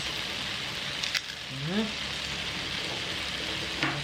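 Mung bean stew with chicharon and ampalaya leaves, an Ilocano dish, sizzles steadily in a pot as it is stirred, a close, continuous bubbling hiss with a brief scrape, while someone speaks over it.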